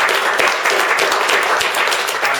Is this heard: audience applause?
yes